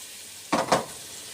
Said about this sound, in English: We have to cook the onions really until they're going brown.